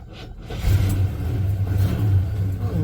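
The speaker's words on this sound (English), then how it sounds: "let's see how quick it starts" A 1984 Chevy C10 truck engine cranks briefly, catches and settles into a steady, rumbling idle, heard up close and loud.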